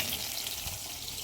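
Two kinds of fish frying in a pan, a steady, close hiss of sizzling oil that runs unbroken and on its own with no voices.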